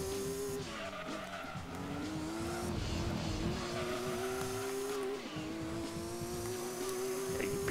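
Engine of a racing car in Gran Turismo 2 screams continuously at high revs, pitch climbing and dropping between shifts, while tires squeal and skid in the turns; loud, close and unbroken, with no voices.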